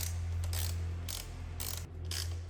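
A small ratchet turns on a Honda CB 125 Twin motorcycle during restoration, giving about four short, close bursts of clicking over a low steady hum.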